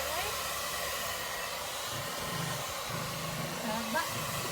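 A hair dryer blows with a steady, close airy roar throughout, while voices speak briefly over it.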